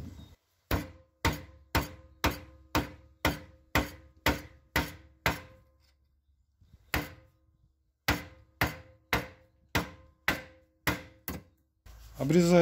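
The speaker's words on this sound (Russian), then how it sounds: "Беру трубу, отметил 40 мм и сплющиваю." Hammer blows flatten the end of a metal pipe in a home workshop, marked at 40 mm, while making a garden hoe: a fast run of about ten sharp, ringing strikes, a short pause, then another steady burst of close, loud hits.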